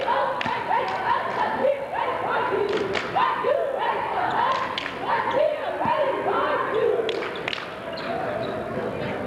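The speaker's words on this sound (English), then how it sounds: "An extremely energetic Pennwood cheerleading squad" Pennwood's high-energy cheerleading squad shouting and chanting in a high-school gym during a 2004 boys basketball game against Norristown, with overlapping voices, scattered thuds and claps running steadily throughout.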